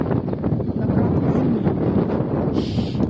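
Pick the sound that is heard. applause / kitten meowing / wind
wind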